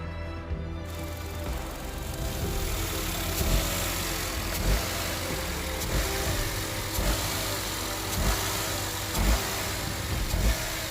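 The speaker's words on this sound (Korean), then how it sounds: "벨트 그리고 아이들 베어닝을 교환하고 시동을 걸어 소음을 한번 들어보겠습니다" A Kia Morning car engine idles steadily up close after auto pulley, belt and idler bearing replacement, a continuous mid-pitched hum with a faint rhythmic ticking and no voices.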